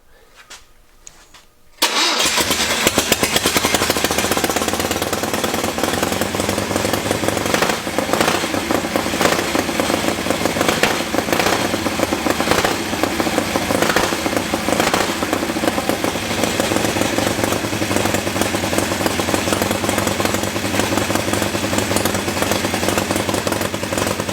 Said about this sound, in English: I'm going to hit the throttle. Watch how it revs right up.